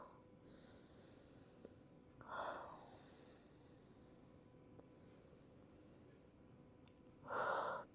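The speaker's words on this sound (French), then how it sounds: "Reprends la respiration dans le ventre." Two slow belly breaths during a vinyasa yoga session, each a soft airy whoosh lasting under a second, spaced several seconds apart over a quiet, hissy background.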